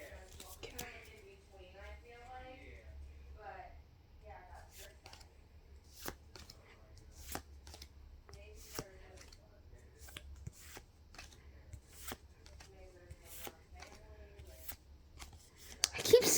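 Pokémon card packs being torn open and the cards shuffled and flicked through by hand, a run of crisp paper snaps and rustles that repeat throughout, with a quiet voice talking in between.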